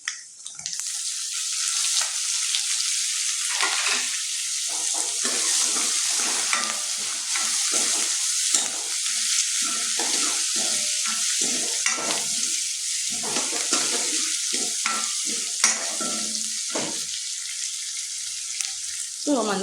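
Onion and green chillies sizzle and fry steadily in a pan while being stirred, a close, continuous crackle with scraping strokes throughout.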